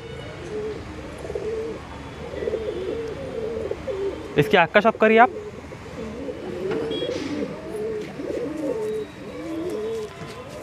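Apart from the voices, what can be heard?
pair of dobaz pigeons in a box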